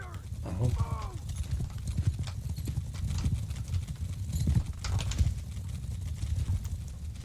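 Cavalry hooves clop and pound across the ground in a Bannerlord battle, steady and fairly close, with a horse whinny early on and shouting voices mixed in.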